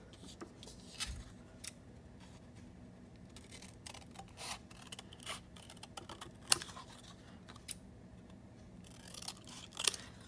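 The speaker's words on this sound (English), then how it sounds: "you're going to use your scissors and you can cut out that shape" Scissors cut a shape out of a paper print for mixed media printmaking, a close series of irregular snips and crisp paper crackles with faint handling noise and no talk.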